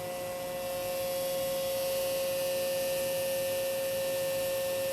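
An electric-motor-driven hydraulic pump with a pressure compensator runs steadily near 1,000 psi, giving a constant loud hum with strong tonal whine and no breaks, with no talking.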